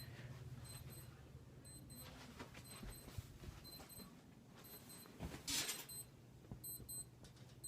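Short electronic beeps repeat at regular intervals, high-pitched and fairly faint, over a low steady hum and scattered background rustling.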